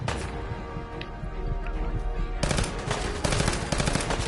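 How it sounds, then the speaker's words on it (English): Rapid automatic gunfire in Fallout 4 during the Rescuing Nick Valentine mission, with a dense clatter of shots bursting out loud and near in the second half over a quieter rumbling start, no voices. "I feel like I was shooting all over the place then"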